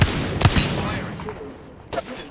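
Incoming gunfire in the Apex Legends battle royale game: a few sharp shots early, then another burst near the end over a low game backdrop, with a player's voice murmuring faintly between shots.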